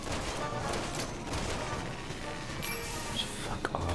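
Sniper rifle shots ring out in a Resident Evil 6 firefight, sharp cracks scattered over dense, steady game noise, with a couple of distinct reports near the end.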